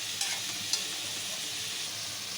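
Ginger, garlic, cinnamon and clove paste fries in hot oil for a capsicum gravy curry, giving a steady, dense sizzle close up with a couple of faint stirring clicks.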